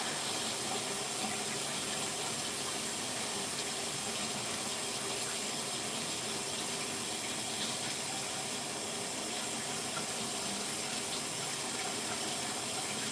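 Shower water runs in a continuous, even hiss of spray, close and steady from start to finish, with no one speaking.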